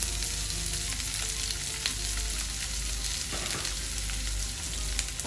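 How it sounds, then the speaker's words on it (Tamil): Onion and tomato sauté in a pan for a potato and cauliflower gravy, giving a steady, close sizzle and crackle with a few faint scrapes partway through. "ஒரு நிமிஷம் நல்லா வதங்கட்டும்"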